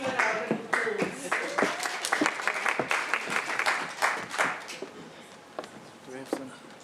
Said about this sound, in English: Maybe you can give a round of applause.